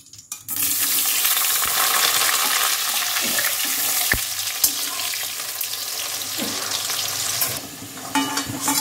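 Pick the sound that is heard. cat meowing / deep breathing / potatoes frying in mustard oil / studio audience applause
potatoes frying in mustard oil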